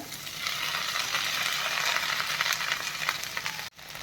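Okra tossed into a pan of frying tomato and onion gives a continuous close sizzle with scraping stir strokes, fairly loud and alone, cutting off sharply at the very end.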